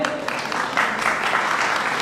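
Audience applause at a Brahmin community talent award ceremony, a dense, fairly loud stretch of many hands clapping that swells slightly partway through and holds steady.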